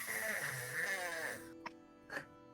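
A cartoon cat snores in a video game; after a stretch of tonal, voice-like sound, two short, soft snorting breaths come apart from each other, close but quiet.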